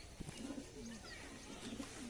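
A black pigeon coos softly nearby, two short throaty rolling bursts separated by a pause, faint and alone against a quiet background.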